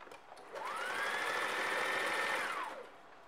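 A sewing machine stitches lace onto the edge of a dupatta in one short steady run of about two seconds, rising and falling smoothly, close but fairly soft.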